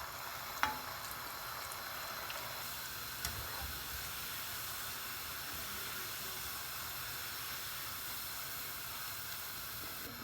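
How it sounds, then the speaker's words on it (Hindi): Potato koftas fry in hot oil with a steady, even sizzle and hiss, marked by a couple of faint clinks near the start. "इसी तरह जो बकाया हमारे रह गए थे इनको भी हमने फ्राई कर लेना है।"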